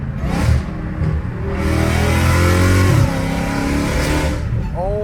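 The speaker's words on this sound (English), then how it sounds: "This car sounds amazing, dude." A car engine revs on a narrow street, climbing and falling in loud rising sweeps close by, with people talking excitedly over it.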